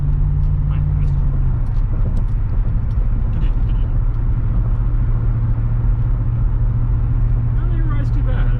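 A lowrider car driving along a road, heard from inside as a steady low engine drone with road rumble and drivetrain vibration, and someone talking over it.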